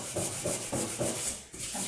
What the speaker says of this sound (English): Sometimes you have to sand to get it to come out.